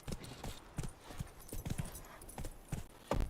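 Hooves of the horse Roach in The Witcher 3 clop steadily in a brisk irregular rhythm, fairly quiet and close, with faint background ambience.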